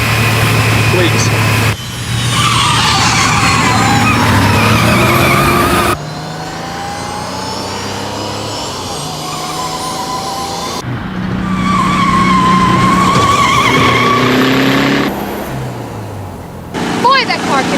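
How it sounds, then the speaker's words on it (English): A racing car's engine roars and revs while its tires squeal and skid through turns, loud and continuous for the whole stretch, with shifting pitch as it accelerates. "Boy, that car can really move."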